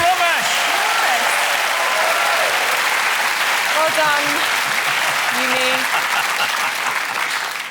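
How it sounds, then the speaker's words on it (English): Studio audience applauding two contestants on a children's science-and-robots game show, with broad steady clapping throughout and a presenter's voice speaking over it. "We have a round of applause for Yumi and Romesh."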